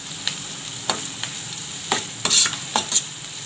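Sliced onions and curry leaves fry in hot oil while being stirred, a steady close sizzle broken by several scraping spoon strokes against the pan.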